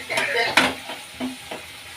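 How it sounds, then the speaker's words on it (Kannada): Oyster mushrooms with salt and spice powder sizzle in a pan while they are stirred, giving a short, close run of scraping stirs over steady frying hiss. "ಮಿಕ್ಸ್ ಮಾಡೋಣ ಚೆನ್ನಾಗಿ ಫ್ರೈ ಆಗಲಿ"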